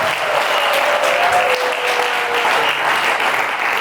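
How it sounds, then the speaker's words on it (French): Guests at a civil wedding ceremony in Brazzaville break into steady, close applause that keeps up evenly throughout, with a faint voice or whistle briefly rising above the clapping. "Applaudissez ici"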